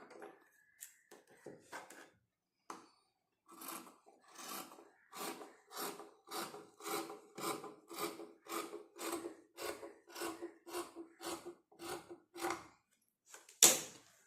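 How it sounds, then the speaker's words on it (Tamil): Scissors cut through blouse patti fabric pieces in a quick, regular series of about fifteen close snips, each a short crisp burst, after a few scattered handling sounds. "ரெண்டையும் இப்போ நம்ம நல்லா நீட்டாக ஈவனாக எடுத்து வச்சுட்டு கட் பண்ணி எடுத்துடலாம்"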